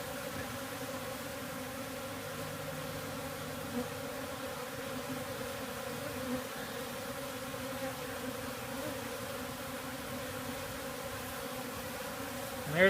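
A honey bee swarm buzzes steadily around a 5-gallon bucket with a screen top during a live swarm removal outdoors, a dense, continuous droning hum with no talking.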